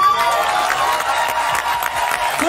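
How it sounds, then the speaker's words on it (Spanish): Studio audience at the Teatro Teletón applauding and cheering loudly for singers on a TV talent show, a dense continuous roar of clapping and crowd noise throughout. "Fuerte el aplauso entonces, que se escucha además en el Teatro Teletón"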